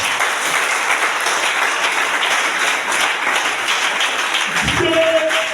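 A church congregation at a Sunday service applauding together, a dense, sustained wash of many hands clapping in a large room, loud and steady, with a brief voice and tone rising near the end.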